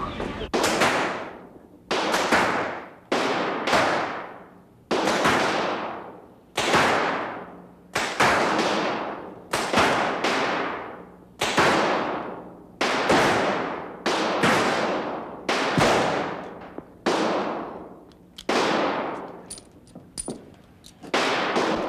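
Shots from a .38 revolver at a shooting range, about a dozen loud, booming reports a second or two apart, each trailing into a long echoing decay.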